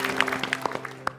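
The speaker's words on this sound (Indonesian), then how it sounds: "Tepuk tangan untuk Bagito." Scattered applause from a studio audience honoring the comedy trio Bagito on a talk show, a handful of distinct claps over a faint background hum, light and short.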